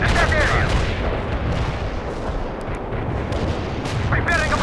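An artillery barrage booms in the World in Conflict video game, with heavy, continuous rumbling blasts rolling through the clip while radio-style voices speak over the bombardment.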